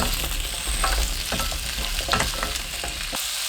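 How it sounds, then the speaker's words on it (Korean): Sweet potatoes stir-fry in a tablespoon of cooking oil in a pan over high heat, giving a steady close sizzle with scraping and stirring clatter throughout and no talking. "팬에 식용유 1큰술, 고구마 넣고 센 불로 2분 볶습니다."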